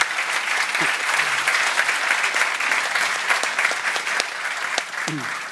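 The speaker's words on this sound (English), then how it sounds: "I felt like giving you an applause" An audience applauds after an interview with comic artists Robert Crumb and Aline Kominsky-Crumb, a dense, sustained burst of clapping with brief voices rising over it.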